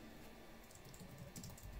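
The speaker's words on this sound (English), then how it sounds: "Just typing this all into the Facebook post." Quiet keystrokes tap on a computer keyboard in short irregular bursts, faint and close, with no voices.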